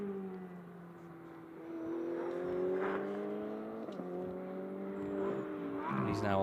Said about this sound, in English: You can hear that fantastic V10 singing as he goes down the gears